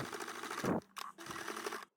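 A sewing machine stitching the hem of a fabric face mask, two short bursts of fast mechanical whirring separated by a brief pause, fairly close and quiet.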